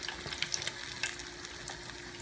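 Onions fry in a pan for salmon croquettes, giving a steady close sizzle with scattered sharp crackles and pops throughout.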